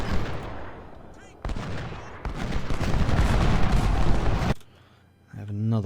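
Musket volleys and artillery fire from the Civil War strategy game Ultimate General, a dense roar of gunfire with sharp bursts and booms that cuts off abruptly, followed by a quieter stretch with a brief voice near the end.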